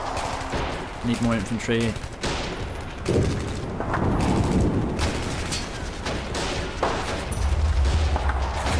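Sniper and rifle fire in the WWII strategy game Men of War at Kasserine Pass, several sharp shots and bursts rising over a continuous battle din, with a brief in-game voice line early on.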